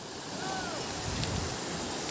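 The Chandramati river in Uttarakhand rushes steadily nearby as a broad, continuous wash of flowing water with faint wind.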